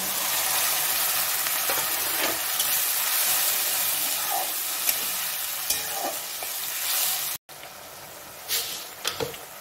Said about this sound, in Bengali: পেঁয়াজটা একটু ভাজা ভাজা হয়েছে, এবারে আমি আদা রসুন আর টমেটোর যে বাটাটা দিচ্ছি।